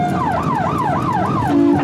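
An emergency vehicle siren wails in rising and falling sweeps, loud and close, shifting to a steadier tone near the end.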